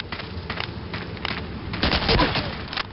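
Gunfire from the World War II shooter Medal of Honor Allied Assault, with several sharp shots clustered together and a denser burst near the end, set over a steady game background.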